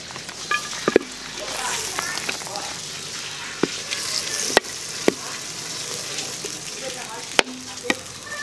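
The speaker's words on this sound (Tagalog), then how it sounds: "Igisan natin mga putas sa ating butter." Butter sizzles softly in a pan as crayfish are sautéed in it, a steady hiss broken by several sharp clacks of a utensil against the pan, while a voice talks intermittently over the cooking.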